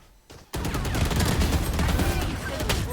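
Rapid gunfire from the tactical shooter Valorant erupts after a half-second lull, loud and continuous bursts filling the rest of the moment with dense, overlapping shots.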